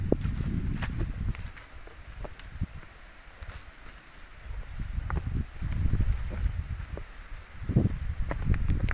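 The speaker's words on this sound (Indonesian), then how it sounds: "anginnya kencang sekali di sini" Strong wind gusts buffet the microphone in a rocky durian orchard on a ravine edge, coming in rumbling surges with rustling and a few light footsteps, no talk.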